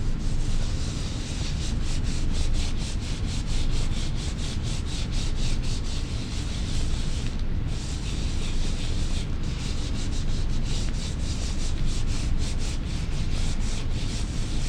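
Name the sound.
rubbing paper onto a printmaking block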